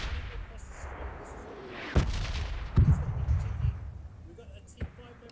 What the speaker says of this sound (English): Oh, I'm in the bombing zone.